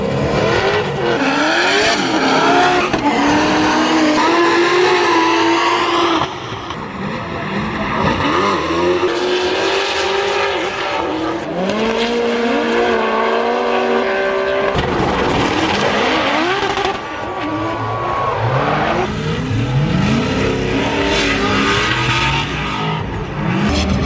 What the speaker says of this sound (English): This is where you see a lot of crazy driving, a lot of crazy battles.